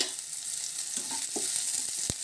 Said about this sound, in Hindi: प्याज को हल्का सा भून लेंगे। इसमें हम कद्दूकस किया हुआ अदरक और लहसुन भी डाल देंगे।